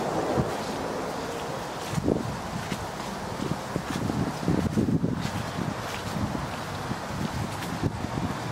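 Steady wind rushes and buffets the microphone on a warm, sunny day beside water, with low rumbling gusts and faint rustling throughout and no voices.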